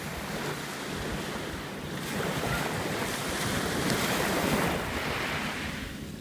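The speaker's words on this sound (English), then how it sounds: "Ocean waves" Ocean waves roll and break in a continuous wash of surf, swelling louder midway with wind noise blowing across the microphone.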